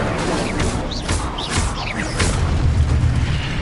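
The Incendio fire spell goes off in a video game, a loud dense burst of crackling, whooshing flame with sharp magical chirps and booms layered throughout, sustained for several seconds.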